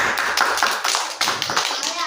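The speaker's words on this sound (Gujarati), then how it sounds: "ચલો તાળી પાડો." Children clap their hands in short, loosely synchronized bursts, several claps close together and fairly loud, with voices talking over and between them.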